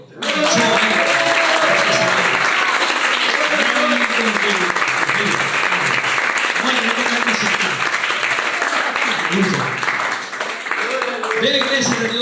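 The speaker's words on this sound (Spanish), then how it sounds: "Aplauda a Dios." A church congregation applauds loudly and steadily for about twelve seconds, a dense wash of clapping with voices and shouts rising over it and a brief dip near the end.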